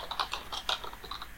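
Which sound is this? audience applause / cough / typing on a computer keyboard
typing on a computer keyboard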